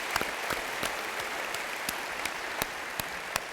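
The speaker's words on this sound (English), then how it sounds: "let's give a big round of applause for our NRPA staff" A conference audience at the 2015 NRPA Annual Conference applauds the staff, a dense, steady wash of clapping with a few distinct nearby claps standing out.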